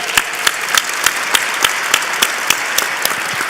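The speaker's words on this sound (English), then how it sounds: "Let's give them a huge hand." An awards ceremony audience applauds, giving a steady wash of clapping with sharp individual claps standing out near the microphone, sustained and fairly loud throughout.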